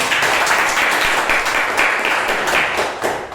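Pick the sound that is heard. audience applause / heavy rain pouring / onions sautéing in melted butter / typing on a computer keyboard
audience applause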